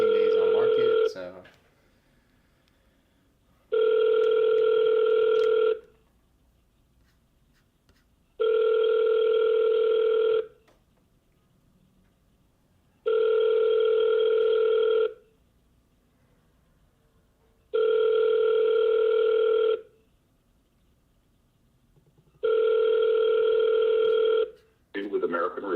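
An outgoing telephone call rings back with five evenly spaced steady tones, each about two seconds long with long silent gaps, clear and close with no talk over them.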